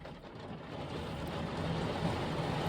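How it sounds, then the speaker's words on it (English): Heavy rain pours down steadily nearby, a dense, continuous wash of drops drumming on surfaces with no break and no voices over it. "the rain is very loud"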